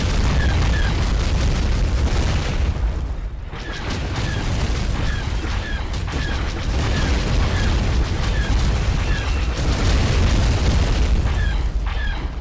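Continuous loud rumbling explosions and booming impacts from an Imperial strike on a rebel base in a video game battle, dense and sustained with repeated blasts layered over one another.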